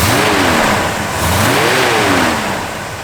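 A 1956 Chevrolet 210 engine revs twice, rising and falling in two strong swells over a steady loud idle, close and with no talk.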